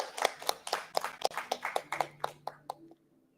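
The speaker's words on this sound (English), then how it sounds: "Let's have a round of applause" A round of applause at a precision medicine event, heard as an evenly paced run of about a dozen distinct, fairly close claps over roughly three seconds before it stops abruptly into near silence.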